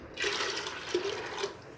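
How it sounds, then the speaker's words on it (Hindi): Water poured from a bowl into a pot of black chickpeas already seasoned with cumin, red chili, turmeric and nigella seeds, making a short, steady splashing gush with a few brighter sloshes, heard close with no talking. "ये जो हैं प्याले बॉल ये मैंने पानी के डाल दिए हैं"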